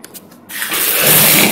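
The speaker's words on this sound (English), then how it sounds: "We have boiling paraffin wax, and we're gonna dip the tube in ice water." A test tube of boiling paraffin wax plunged into a beaker of ice water sets off a sudden, loud spraying hiss and violent sputter after a near-silent moment, and the sound sustains to the end.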